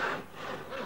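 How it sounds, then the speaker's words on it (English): A tenon saw cuts straight across a piece of wood held on a bench hook, a brief close rasping stroke, back and forth, quiet and alone. "For cutting straight lines across the wood, you should use a tenon saw."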